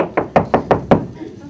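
Five sharp knocks on a door at a Carpatho-Rusyn Christmas Eve dinner, struck in a quick, even series, loud and close, each ringing briefly before a faint tail of room noise.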